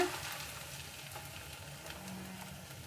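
Egg frying in oil in a pan with drumstick leaves, a steady close hiss and crackle that holds at an even level throughout, with no voices.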